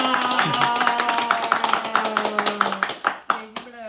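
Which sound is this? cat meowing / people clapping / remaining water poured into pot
people clapping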